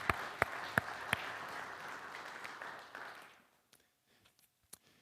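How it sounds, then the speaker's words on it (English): A crowd at a Lutheran church worship service applauds with scattered distinct claps standing out, the clapping fading over a few seconds to near silence with a few last claps. "Let's give Greg a round of applause"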